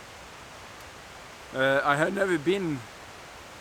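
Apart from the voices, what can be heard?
Brudslöjan waterfall rushing at Halleberg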